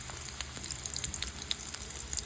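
Onions frying in white oil in a pan for chicken kosha, a soft steady sizzle with scattered small crackles and pops at a quiet, close level.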